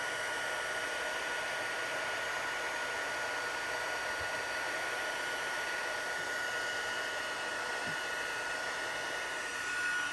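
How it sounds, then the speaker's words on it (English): A craft heat tool blowing hot air for card making, a steady unbroken whooshing hiss with a faint motor whine, constant and close throughout. "get my heat tool out. And it should heat up within a short time"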